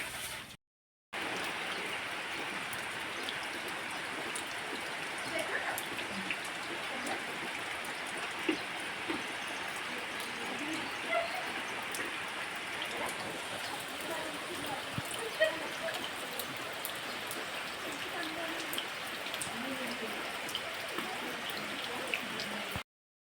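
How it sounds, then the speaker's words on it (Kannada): Steady rain hissing down with a dense, even patter throughout, a few louder drops standing out now and then. "ಮಳೆ ಬರ್ತಾನೆ ಉಂಟು"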